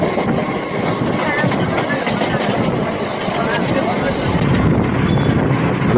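A Chennai local train passes through a station with a loud, continuous rumble and rattle of rolling wagons. Wind buffets the microphone, and voices are faintly audible underneath.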